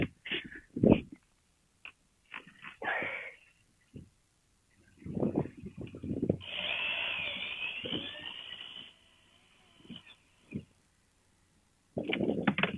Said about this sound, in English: I am using my electric drill with a headless screw in it to use as a tool to remove the bung